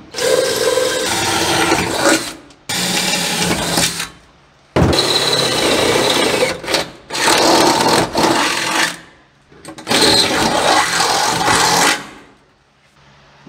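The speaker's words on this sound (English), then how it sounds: "All right, let me drill the rest of them out real quick." A power drill bores bolt holes for the pedals in a 1940 Chevy Coupe, sounding as loud, close bursts of grinding and whirring separated by short pauses, five or six runs in all.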